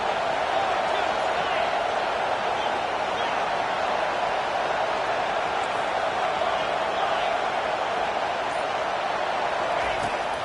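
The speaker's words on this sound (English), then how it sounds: "Here comes this home crowd as the defense tries to get off the field on 3rd down." Home crowd at an NCAA college football game roars steadily throughout as the defense tries to get off the field on third down, a dense sustained cheer with commentary voices running over it.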